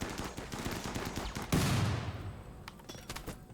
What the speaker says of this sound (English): Just fire at that clump. Fire at anybody in there.